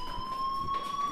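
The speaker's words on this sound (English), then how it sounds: "do you hear that fire alarm?" A fire alarm in the Life is Strange video game sounds as a steady, continuous electronic tone, fairly faint, with no talk over it.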